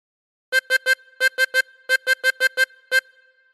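A tremolo harmonica blown on hole 9, a steady series of about twelve short repeated notes in groups of three, close and bright, with no voices.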